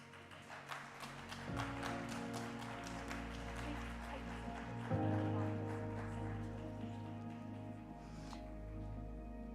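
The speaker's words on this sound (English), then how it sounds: "So please do give her a round of applause as she makes her way to the stage." An audience at a trade and investment forum applauds as a speaker walks to the stage, steady clapping over background music, moderately loud throughout.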